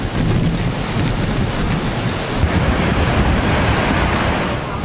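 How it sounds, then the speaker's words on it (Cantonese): Huge typhoon waves pound the Heng Fa Chuen shore in Hong Kong, a loud, continuous booming wash of surf and wind close at hand for the whole stretch, with no talking. "由高位望落去，見到大浪冚埋嚟"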